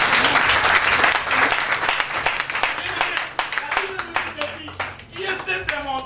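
A church congregation applauds together, loud dense clapping that keeps up throughout, with voices mixed in beneath the hands.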